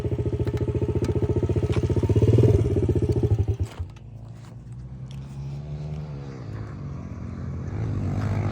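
Pit bike motorcycles race at a pit bike championship, their engines buzzing loud and close with rising revs before a sharp drop-off. Quieter, more distant engine drone follows and builds again toward the end.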